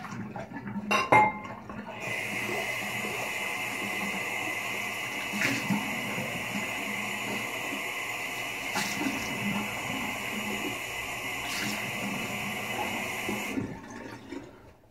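Steady stream of running water from a tap during a cold rinse, continuous and fairly loud for most of the stretch, starting after a brief clatter and cutting off near the end.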